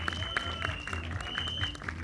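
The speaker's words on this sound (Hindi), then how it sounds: "उनके लिए जोरदार तालियां हो जाएं" Audience applause at a Bollywood trailer launch event at a mall, a steady wash of clapping from a crowd, with a faint tone and some chatter underneath.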